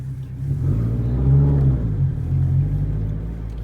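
A modified 2004 Subaru STI pulls hard through the gears, its low engine note swelling and dipping with each shift, loud and close with no talk over it.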